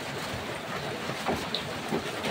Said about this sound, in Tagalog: at lumakas pa yung ulan mga ka-viewers.